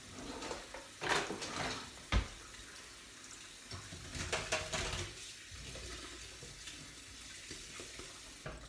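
A kitchen tap runs steadily while beans are rinsed in a sink, with some clatter and a sharp knock early on. The sound is close but fairly quiet, with no speech.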